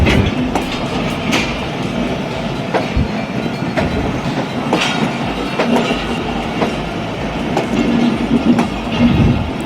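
The Bolan Mail passenger train of Pakistan Railways rolls along on its Quetta to Karachi route, with a loud, continuous rumble from on board and rhythmic clickety-clack wheel beats repeating throughout.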